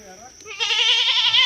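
Several goats from a small farm herd of about fifty bleat loudly and repeatedly at close range, the calls overlapping and swelling after a brief quieter start, with some talk nearby.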